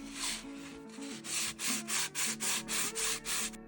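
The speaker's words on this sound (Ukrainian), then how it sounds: "Починаю з шліфувальної шкурки 80-го зерна і поступово зменшую зернистість." Close, rhythmic scratchy rubbing of 80-grit sandpaper on hard filler, sanding by hand with steady back-and-forth strokes that get quicker and more regular.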